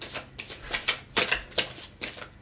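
Playing cards being practised at riffle shuffling, a run of short crisp flutters and taps in uneven bursts, close and fairly quiet.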